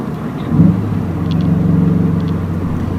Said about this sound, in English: I'm slowing the car down, letting the engine braking work